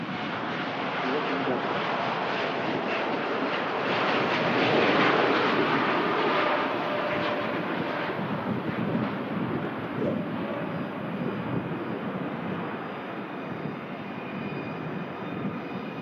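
A Boeing 787 Dreamliner takes off from runway 05 left at Manchester Airport, its steady, loud jet roar filling the whole stretch and swelling slightly midway, with faint voices underneath.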